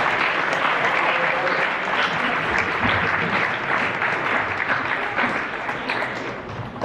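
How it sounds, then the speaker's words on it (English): Sustained round of applause from a crowd at a school athletic awards dinner, dense steady clapping filling the room with a faint voice underneath. "one more very grandiose round of applause for all of those"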